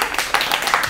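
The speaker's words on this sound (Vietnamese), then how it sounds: "Mọi người cho một tràng vỗ tay cho anh Ken nào." A small group claps briefly for Ken during a hair-dyeing session at a barber practice, a short, close, uneven patter of hands with a voice mixed in.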